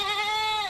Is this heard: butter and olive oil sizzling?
no